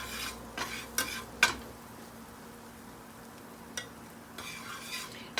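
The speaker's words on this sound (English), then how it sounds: "just want to sprinkle a little flour on my butter" Flour being stirred into melted butter in a hot pan while making mac and cheese, with soft scraping stirs and a faint sizzle, a few louder utensil scrapes standing out against a low kitchen hum.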